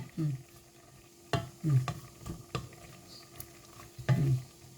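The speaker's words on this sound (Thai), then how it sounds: "ขัวเครื่องในหมู ขัวหัวใจหมูขัวไต" Pork offal, heart and kidney, stir-fried dry in a pan. Soft intermittent scrapes and stirs sit over a faint, quiet sizzle.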